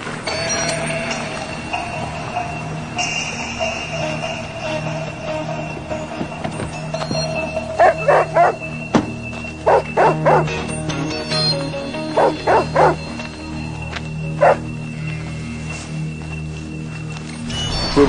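Dog barking in a rural Bavarian setting near a herd, with several short bursts of barks in a row midway through, set against a steady background drone and quiet ambience.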